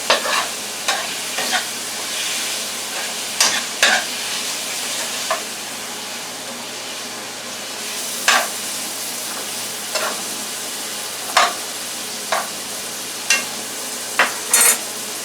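Chicken with a little garlic stir-frying in a pan for pineapple chicken, a continuous sizzle broken by repeated sharp scrapes and clanks of a utensil against the pan, with no talking.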